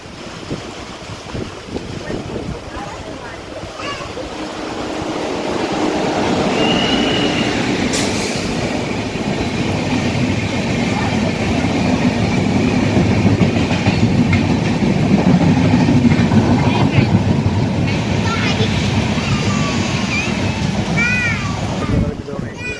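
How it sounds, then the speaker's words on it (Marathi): A train arriving on the opposite track at a station, its rumble and rolling clatter swelling loud and close and holding steady, with a faint horn and squeal, while voices chatter in the background. "विरुद्ध दिशेला ट्रेन आली आहे."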